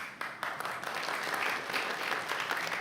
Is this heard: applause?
yes